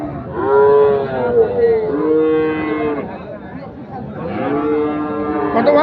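A Sahiwal bull calf at a livestock market moos loudly and close by in several long, drawn-out calls separated by short pauses, with faint crowd noise underneath.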